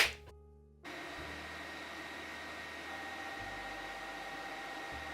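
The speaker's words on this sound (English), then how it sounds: "So I literally have to hold my hair dryer for my hair to dry." After a brief click and a moment of near silence, a hair dryer starts up and blows with a steady, constant whir close by.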